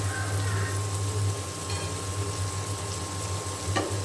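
Shrimp frying in a pan of cooked-down spice paste heavy with onion, a steady close sizzle and bubbling hiss running throughout with a few faint clinks.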